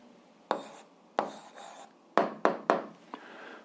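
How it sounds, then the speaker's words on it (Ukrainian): Handwriting an answer with a pen or chalk: a handful of sharp, scratchy strokes in quick bursts with short pauses between them, quiet and close. "а я записую відповідь, пишемо відповідь"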